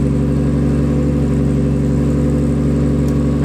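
Nissan 240SX S14 with an RB25 engine held at high revs against a launch-control limiter, a loud steady droning roar with a rapid pulsing stutter throughout, close and alone.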